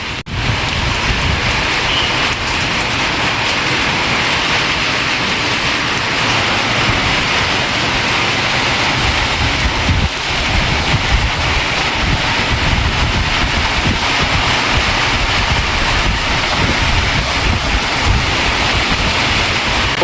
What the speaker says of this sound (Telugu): పొట్టు వర్షం వస్తుంది